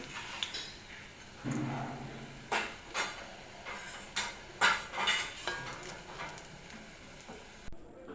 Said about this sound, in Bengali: বড়াটা লাল হয়ে গেছে, এখন নামিয়ে নেব।